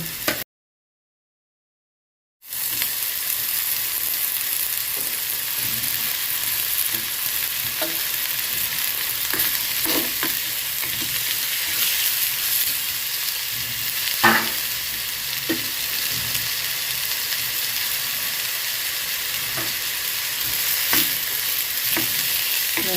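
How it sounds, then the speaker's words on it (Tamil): Shrimp masala ingredients for a Jaffna-style prawn fry sauté loudly in a pan, a dense steady sizzle with occasional scraping stirs, after a brief silent gap at the start. "இப்போ வதக்கலுக்கு தேவையான எல்லாத்தையும் போட்டு நான் வதக்க போகிறேன்"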